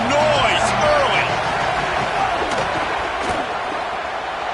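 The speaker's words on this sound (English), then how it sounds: "This crowd bringing the energy and noise early." A football stadium crowd roars in a dense, continuous wash of cheering and noise, loud and steady throughout, with a commentator's voice talking over it.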